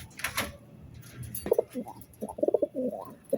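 A male Budapest pigeon coos in a short series of soft throaty burbling calls, close by, after a brief rustle at the start.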